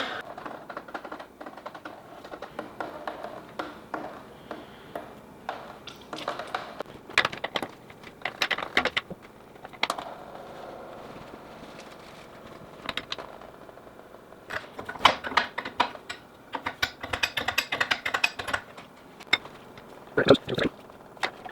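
A wrench works loose the hydraulic hose fittings on a tractor loader, giving close, irregular metallic clicks, taps and scrapes in scattered bursts with short pauses between.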